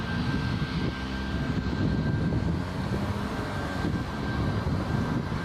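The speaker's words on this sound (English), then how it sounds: "I can hear its engine, so let's have a look." Boeing 737 Max 8 jet engines taxiing at Toronto Pearson airport at night, a steady, continuous roar and rumble that holds evenly throughout without voices.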